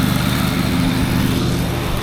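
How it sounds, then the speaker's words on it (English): A lawn mower cutting grass at the end of the growing season runs loud and close, a steady droning engine hum with no pauses and no voices. "out mowing the grass for the last time this year"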